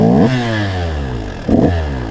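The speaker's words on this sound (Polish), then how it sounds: "Coś tam próbuje podrywać na jedynce ze sprzęgłem." An enduro motorcycle engine revs hard in first gear with the clutch slipped for a wheelie attempt, the pitch sweeping up and down close by, with a second sharp rev-up midway.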